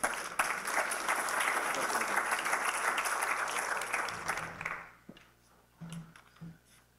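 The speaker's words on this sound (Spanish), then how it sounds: "Démosle un fuerte aplauso, por favor, a Víctor." Loud audience applause at a conference on meat science fills the first four and a half seconds as a speaker named Víctor is welcomed to present on instrumental color evaluation in meat, then dies away into a few scattered late claps and room noise.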